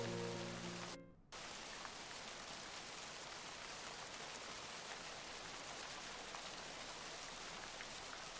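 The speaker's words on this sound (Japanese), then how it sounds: "雨足が強さを増す。" Rain in a horror video game, a dense steady hiss of falling rain that swells after a brief dip near the start and then holds at a constant level, with a low tone at the very beginning.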